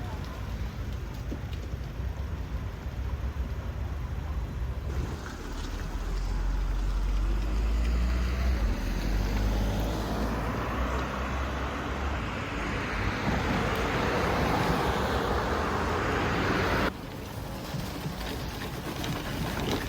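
A car drives through a muddy, swampy track with a steady, loud engine and tyre rumble, churning and splashing building in the middle stretch before easing off.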